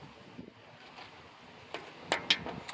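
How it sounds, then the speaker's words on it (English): Wind blows in a steady low rush with a few louder gusts and buffets toward the end, no talking. "Oh, it's getting windy."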